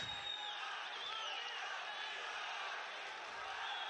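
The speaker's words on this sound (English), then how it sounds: "The crowd here rising to this occasion" A crowd at an ACB 48 MMA main event in an arena roars and cheers in a steady, loud, unbroken wash of noise, with faint voices mixed into the din.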